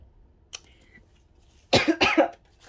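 A woman coughs twice in close succession, loud and near, after a quiet stretch with a faint rustle and a small click.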